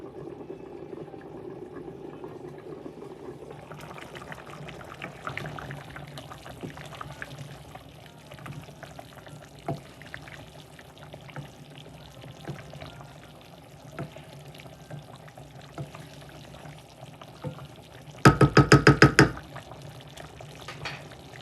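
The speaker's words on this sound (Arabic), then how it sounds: "راح نضيف شوية ماء سخن" Hot water poured into a cooking pot of seafood pasta sauce with tomato and spices, a soft continuous pour under kitchen clatter, with a brief louder burst near the end.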